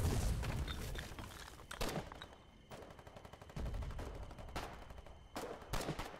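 Artillery and machine gun fire in the Foxhole war game: loud repeated booming shots and rapid bursts of automatic fire, a steady barrage in several separate waves with brief lulls between them.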